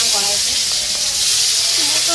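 Shol fish from a village pond hitting hot oil in a kadai over a rural kitchen fire, giving a steady, bright frying hiss that fills the whole moment, with faint voices and clatter beneath.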